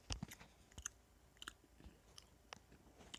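Someone chews candy close to the mic, giving soft, irregular crunching and mouth clicks scattered through a quiet room, with no speech.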